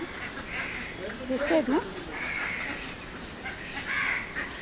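Ducks at a waterside, their short honking calls rising briefly midway over steady background noise while a person talks throughout.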